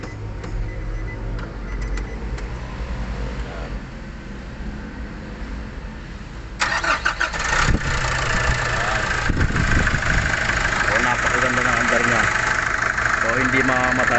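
A Nissan NV350 diesel engine idles right after starting, following a fuel filter replacement, with a steady rumbling drone that grows louder and rougher partway through. Voices talk over the running engine.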